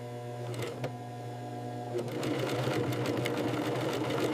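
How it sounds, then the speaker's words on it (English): An industrial sewing machine stitches crocodile leather in a luxury handbag factory, running with a steady close mechanical whir and rapid needle rhythm that grows slightly louder and busier partway through. "Stitching is done slowly for strength."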